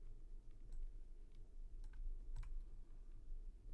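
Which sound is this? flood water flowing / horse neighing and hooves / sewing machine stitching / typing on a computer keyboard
typing on a computer keyboard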